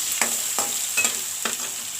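Crushed chili frying in a pan for aloo gravy gives a soft steady hiss, punctuated by four evenly spaced spoon strokes that scrape and tap against the pan.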